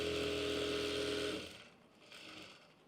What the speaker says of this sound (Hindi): और इस तरह से सिलाई लगाएंगे।